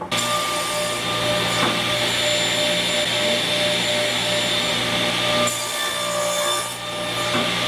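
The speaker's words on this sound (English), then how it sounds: "I need to cross cut this piece of walnut and this piece of maple down to the same length." Power saw cross-cutting walnut and maple boards, a loud steady whining roar lasting several seconds with a brief dip partway through, no talking.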